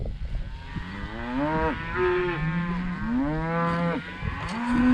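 Cows in a grazing field moo in long, drawn-out calls, several overlapping lows following one another close by and loud, with faint outdoor noise between them.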